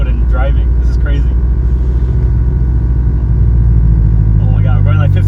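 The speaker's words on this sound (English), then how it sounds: "this car's actually moving again" A Toyota GR86 with a built engine cruising slowly on the road, a steady loud low engine rumble heard from inside the car, with people talking over it.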